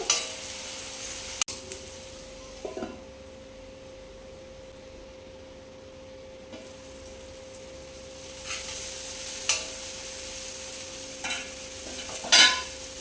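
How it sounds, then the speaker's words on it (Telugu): Green chili paste fries in a pan with a low steady sizzle, broken by a few sporadic scraping stirs of a spoon, with a sharper clatter of utensil against the pan near the end. "ఇలా చూసుకుంటూ మధ్య మధ్యలో కలపాలండి, లేకపోతే ఇది మాడిపోతుంది పచ్చిమిర్చి పేస్ట్"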